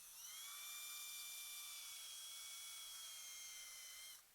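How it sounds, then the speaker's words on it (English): A drill boring a hole into a cactus stem gives a steady, high-pitched whine that holds for about four seconds before cutting off, close and alone without talk. "So in some of the bigger pads down the bottom, I'll do the same thing, I'll drill a hole."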